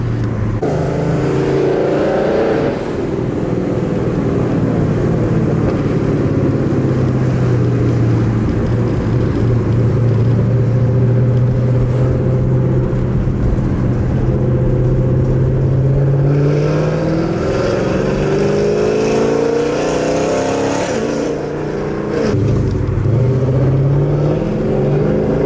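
A 448ci stroker V8 in a Dodge Challenger Scat Pack running E85 rumbles with a lumpy, choppy idle and repeated revving swells, close and sustained throughout.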